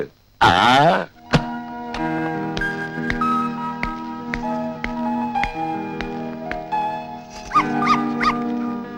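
A short, sharp dog yelp near the start, then music plays steadily for the rest.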